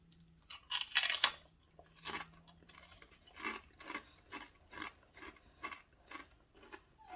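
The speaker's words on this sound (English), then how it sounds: "I can hear you crunching." Close, crisp crunching of someone chewing crunchy carnivore snack chips, a run of irregular bites and chews with quiet gaps between them.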